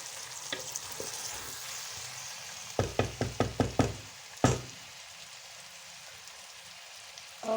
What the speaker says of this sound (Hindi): मैंने इसको अच्छी तरह फ्राई कर लिया 5 मिनट। तो देखिए इसने ऑयल छोड़ दिया।